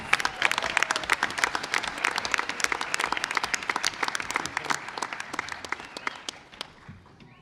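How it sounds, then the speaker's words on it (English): A room at a school board meeting gives applause for the Johns Hopkins SAT scholars, dense steady clapping from many hands that thins out and fades near the end. "Once again, another round of applause for our Johns Hopkins SAT scholars."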